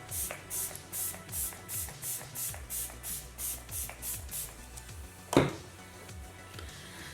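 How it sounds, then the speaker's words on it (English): A makeup setting spray mists toward the face in a rapid, even run of about a dozen soft pumps, close and quiet, followed by a brief louder burst and a fainter final hiss. "is setting spray now"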